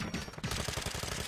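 Rapid automatic gunfire in a video game, a near and loud stream of evenly spaced shots that fills the whole moment.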